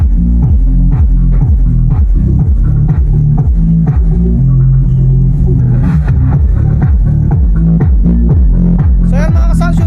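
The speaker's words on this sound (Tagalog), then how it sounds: "yung tunog ng Live Pro na nakaload sa L-ported" A Live Pro 1000-watt 12-inch speaker loaded in an L-ported box plays loud, bass-heavy music during a sound check, with pounding low beats throbbing continuously and no talk over it.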